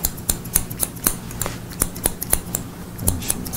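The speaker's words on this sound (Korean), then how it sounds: "이번에는 가위로 한번 어바웃컷을 해볼게요" Barber's scissors cutting hair during a mohican haircut in a hairdressing class, with a series of crisp, close snips at an uneven rhythm and no talking.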